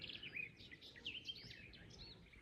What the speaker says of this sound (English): these song thrushes, I can hear it, and I know he's sitting up high